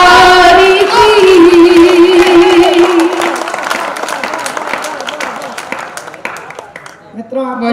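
An audience at a Hindi poetry recital in Dewas, Madhya Pradesh, claps and applauds steadily for several seconds, starting loud and gradually thinning out, with a voice heard over it at first.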